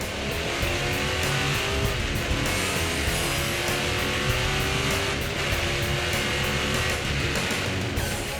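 A race car driven fast on a wet track, its engine howling continuously up close with rising and falling gear changes, no voices over it.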